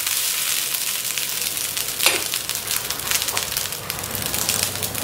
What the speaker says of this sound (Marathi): सगळीकडून फोडणी परतून घ्यायची.